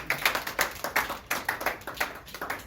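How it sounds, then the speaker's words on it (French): A small conference audience claps in distinct, rhythmic hand claps, a sparse and fairly close pattern of sharp beats rather than a dense roar. "Sinon, nous allons applaudir."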